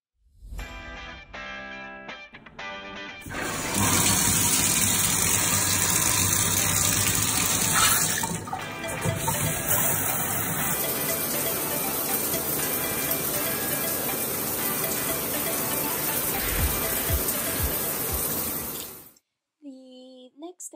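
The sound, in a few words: running water while washing hair in the shower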